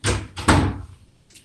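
A house door opens to let a dog in, with a couple of quick, close knocks and bumps of wood followed by a softer thud as it settles.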